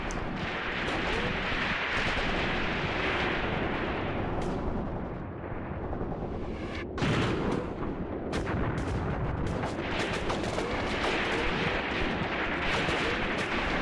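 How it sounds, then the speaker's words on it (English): Dense battlefield gunfire, including machine gun suppressing fire, in the WWII tactics video game Graviteam Tactics: Mius Front, a loud, unbroken barrage of bursts and heavy thuds with a brief lull midway. "our machine guns are under suppressing fire"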